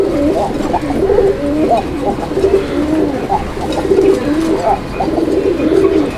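Red checker pigeons coo in a repeated rhythm of soft, throaty calls, close and clear, with several birds overlapping and a faint background murmur beneath.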